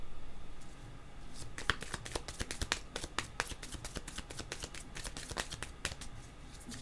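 Tarot cards are shuffled and drawn in a quiet room, giving a steady run of crisp, close riffling snaps and slaps, soft and fairly rapid.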